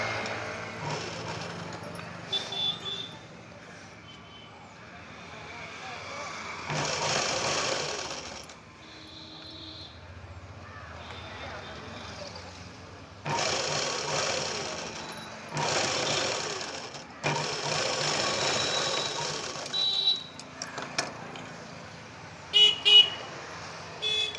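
A sewing machine stitches the collar of a Punjabi-style top in several bursts of steady whirring, separated by short pauses, close and fairly loud.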